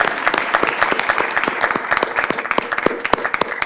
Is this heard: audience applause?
yes